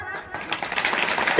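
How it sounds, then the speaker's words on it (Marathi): A crowd at a devotional kirtan gathering breaks into dense, continuous hand clapping, close and steady throughout, with a voice briefly audible at the start. "अशाच टाळ्या झाल्या पाहिजे आता शेवटपर्यंत."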